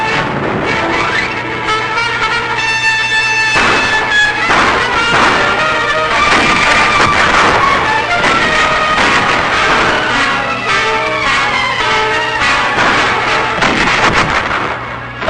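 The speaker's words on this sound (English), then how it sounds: "Caves and other hillside emplacements receive direct fire from our tanks." Tanks fire directly on caves and hillside emplacements on Okinawa in 1945, heard as a dense run of sharp repeated blasts and cracks over a continuous noisy rumble, loud and unbroken for the whole stretch.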